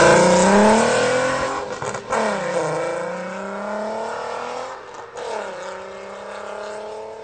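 A VW Golf R32 MK4 engine revs and pulls hard under acceleration, loud and close, its pitch climbing in long sweeps with brief dips between gear changes, no talking over it.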